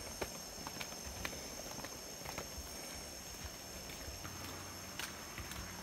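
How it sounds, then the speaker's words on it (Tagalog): A horse's hooves clip-clop at a walking pace on a road near a lake, the steps soft and fairly distant against a steady background hiss. "Kabayo."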